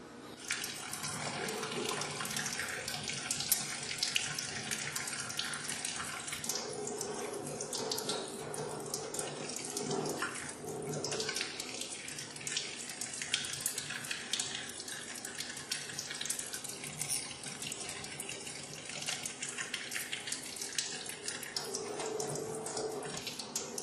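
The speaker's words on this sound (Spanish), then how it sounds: "retiramos el exceso de colorante y enjuagamos con agua de la llave." A tap runs steadily over a microscope slide, rinsing off excess stain after a Schaeffer-Fulton endospore stain; the water splashes continuously and fairly loud for the whole stretch, with no talking.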